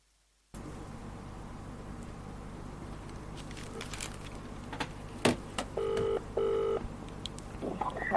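Outgoing phone call placed for a radio debate show, with dialing tones and short beeping ring signals over a steady line hiss, fairly quiet and without talk.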